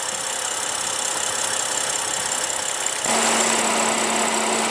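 A 2015 BMW 535i's 3.0-liter turbocharged inline six-cylinder idles steadily, a smooth, even hum heard up close that grows slightly louder and gains a low steady tone partway through.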